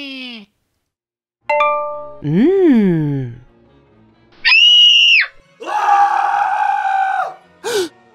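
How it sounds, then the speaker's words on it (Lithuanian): A string of short, shrill screams and shrieks in bursts separated by brief silences, loud and close, with a cartoonish, exaggerated quality. "įsirašo išsigandusių klyksmus"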